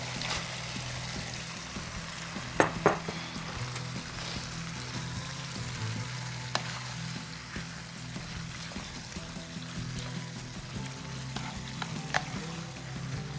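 Rice goes into a pot for vegetable pulao, giving a steady low sizzle and frying hiss with occasional scraping and clinks from stirring, fairly quiet and continuous with no talking.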